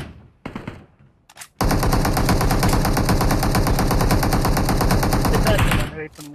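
Loud automatic gunfire in a shooting video game, a short early burst followed by a long unbroken rapid volley of shots that holds for about four seconds before stopping, with no talk over it.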